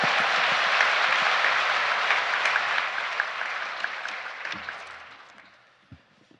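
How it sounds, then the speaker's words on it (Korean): Korean church congregation applauding to welcome a missionary to the pulpit, a dense, steady wash of clapping from many hands that gradually fades over several seconds. "이제 선교사님 나오실 때 할렐루야로 하나님께 영광 돌리고 큰 박수로 맞이하겠습니다."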